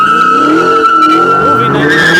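A Dodge Charger does a burnout at a car meet, tires squealing loudly and continuously with a wavering pitch over the engine's rumble, close and unbroken.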